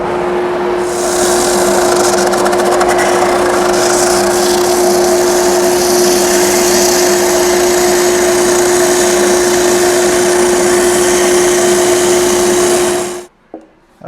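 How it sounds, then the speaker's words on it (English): Power sander working cherry wood for a serving tray, with a dust collector running alongside; a loud, steady whir with a constant hum holds for about thirteen seconds, then cuts off abruptly. "I got all the really heavy sanding done"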